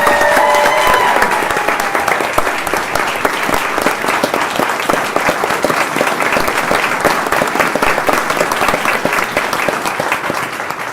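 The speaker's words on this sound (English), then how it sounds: "All right, now you can applaud." An audience at a school board meeting breaks into sustained applause, a dense, steady roar of many hands clapping that holds for around ten seconds and tapers slightly at the end, with a brief tone near the start.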